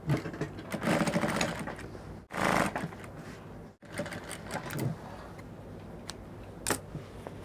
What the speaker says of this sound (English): just flip it upward like this and top stitch